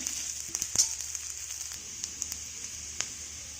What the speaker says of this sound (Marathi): तव्यावरती मी तेल टाकलं आहे आणि आता त्याच्यात तो कांदा पहिल्यांदा आपण भाजून घेऊया.